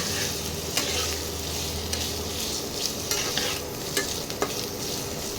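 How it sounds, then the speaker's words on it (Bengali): Potato pieces frying in oil in a pan, a continuous loud close sizzle with occasional stirring scrapes and clicks, no talk. "আলুটা আমি লাল করে একটু ভেজে নেব।"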